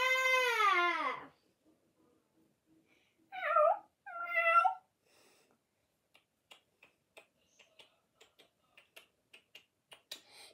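A cat meows in a Slovak children's song about pulling up a turnip: one long, loud meow, then two shorter meows, followed by a run of soft, evenly spaced snaps or ticks.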